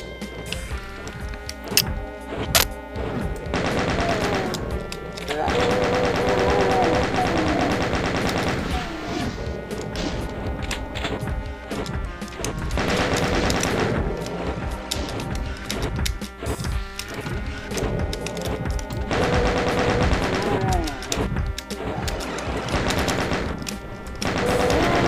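Chaingunner enemies in Doom 2 spray sustained, loud rapid-fire chaingun bursts for about 25 seconds, with dense clattering volleys, short pauses and crashing impacts throughout.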